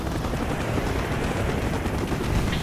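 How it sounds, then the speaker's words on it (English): Anti-aircraft fire from a ship deck in the Call of Duty Black Ops video game, a dense, roaring barrage of continuous flak and gunfire, loud and unbroken throughout. "Taking AAA fire from the deck!"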